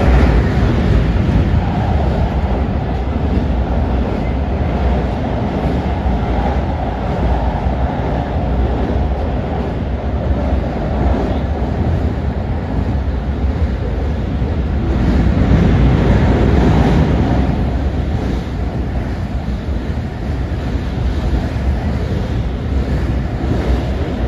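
A train crosses the Seto Ohashi bridge slowly in strong wind, a loud continuous roar of rolling stock mixed with wind buffeting the microphone, swelling briefly about two thirds of the way through.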